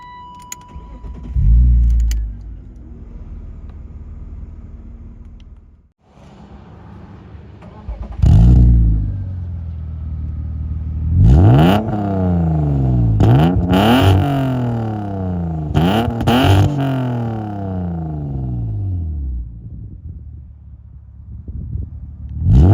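A BMW E36 growls through its exhaust while driving, with several rising rev pulls and gear changes after a couple of brief engine blips and a pause, loud and close.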